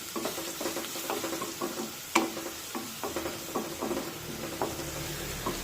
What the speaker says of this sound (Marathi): हळद सुद्धा व्यवस्थित तेलामध्ये परतून घ्यायची